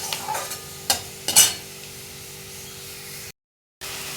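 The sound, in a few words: onion frying with spice paste in pan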